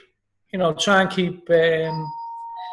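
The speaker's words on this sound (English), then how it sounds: "There's my doorbell, John, and I've just seen the fella." A two-tone doorbell chime rings clearly, the second tone lingering and fading.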